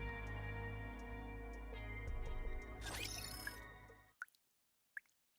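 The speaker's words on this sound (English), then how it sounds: "The sound of water, droplets falling." Water droplets dripping in the video game Goddess of Victory: NIKKE, a run of soft drips over a steady ambient bed that cuts out, followed by a couple of isolated drops in near silence.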